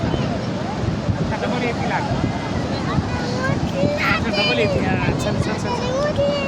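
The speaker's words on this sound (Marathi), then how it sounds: "आता लई मोठी लाट बघा" Big sea waves crash on the Konkan shore in the rain, a dense, continuous surf roar mixed with wind buffeting the microphone while people talk nearby.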